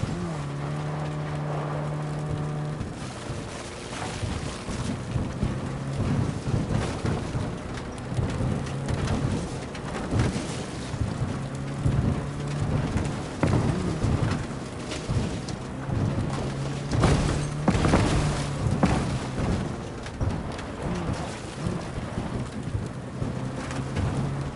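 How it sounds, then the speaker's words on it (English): Heavy thunderstorm in the video game Cyberpunk 2077, with steady rain hammering surfaces and repeated rumbling thunder rolls, loud and continuous with a low droning tone underneath. "That is one hell of a storm!"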